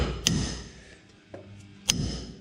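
Two sharp metallic hammer strikes about a second and a half apart, with a fainter tap between them, knocking a ball joint loose on a 2005 Dodge Dakota 3.7L 4x4 in a garage, with no talking.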